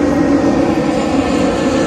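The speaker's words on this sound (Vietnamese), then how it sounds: "Wow, máy bay ồn quá trời." A low-flying airplane passes overhead with a loud, steady engine roar that fills the whole moment, close and continuous.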